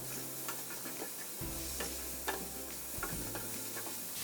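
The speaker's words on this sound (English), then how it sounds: "you should really be able to hear that sizzle now of the heat hitting that ground beef" Ground beef sizzling in a hot pan, a continuous bright crackling hiss close up, broken by a few soft clicks and stirring scrapes, with no one speaking.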